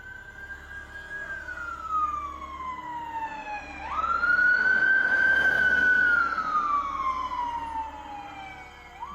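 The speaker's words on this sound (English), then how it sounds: "Wow, an ambulance." A wailing ambulance siren sweeps up and down in long, loud cycles as the vehicle passes close on a road, with a low engine rumble underneath.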